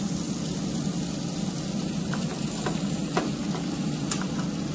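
Sloppy joe meat with melting provolone sizzles steadily on a Blackstone griddle, a dense, even frying hiss with occasional faint scrapes as it is mixed.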